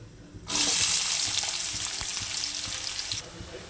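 Onions, cumin and mustard seeds hit hot oil in a pan and burst into a loud, bright sizzle that holds steady for about three seconds before cutting off abruptly.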